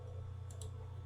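Two quick computer mouse clicks sound close together while drafting in AutoCAD, sharp and faint over a steady low hum.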